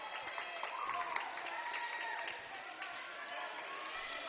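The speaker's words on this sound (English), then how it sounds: "Big crowd tonight." Crowd applause and cheering fill a high school gym during a Los Altos versus Mountain View volleyball match, a steady broad roar sustained throughout with faint whoops rising above it.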